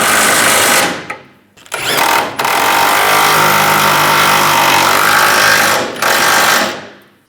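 A power tool rattles loudly up close while tightening rear bumper bolts on a 2007-2013 Chevrolet Silverado 1500, three long buzzing bursts separated by brief pauses.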